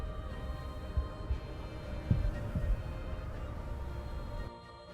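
A soft, low heartbeat thumps in Edge of Continuum, a few muffled pulses over a steady ambient hum, faint and intimate, ending in quiet.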